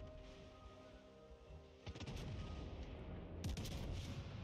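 Heavy warship guns fire in World of Warships Legends: two loud, booming salvos about a second and a half apart over a steady rumbling battle backdrop.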